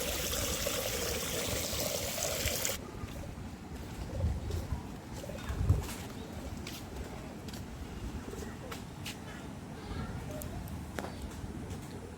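Pigeons coo softly while being fed in the late afternoon, low murmuring calls mixed with trickling water and faint outdoor background, fairly quiet and distant throughout.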